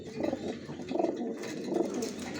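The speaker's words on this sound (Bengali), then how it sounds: "দেখুন হালকা পাতলা ডাকাডাকি করতেছে" Johnson-line racing pigeon chicks give soft, repeated cooing calls in short rhythmic bursts, close and fairly quiet, with no voices.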